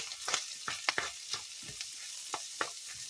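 Leftover corned beef frying in a pan, a close sizzle broken by several sharp scraping stirs and spatula clicks at an uneven rhythm.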